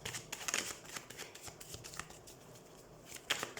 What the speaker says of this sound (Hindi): सबसे पहले हम कार्ड शफल कर लेते हैं।